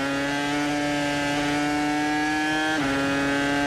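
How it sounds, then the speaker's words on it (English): A Renault R25 V10 Formula 1 engine screams at high revs, a loud, sustained, piercing tone that holds steady, dips sharply with a brief gear change, then climbs again. "opening the throttle in a Renault R25 meant waking up this"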